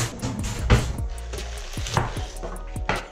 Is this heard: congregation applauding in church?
no